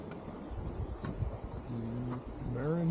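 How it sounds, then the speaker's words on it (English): Distant cars hum as a low steady traffic rumble heard from a riverside park trail, faint and continuous, with a brief tonal sound near the end. "You can hear cars all around you"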